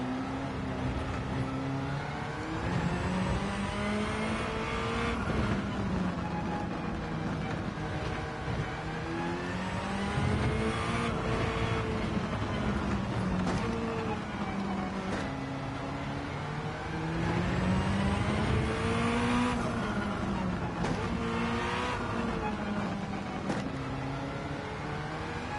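A race car in Gran Turismo 7 drives through corners, its engine note rising and falling in pitch as it revs through gear changes and lifts off for bends, steady and close.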